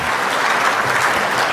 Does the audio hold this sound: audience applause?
yes